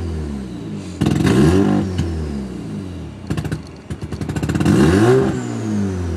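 Mazda RX-7 rotary engine on a cold start, revved repeatedly in sharp bursts that rise and fall, loud and close, with a rattly idle between blips and no voices.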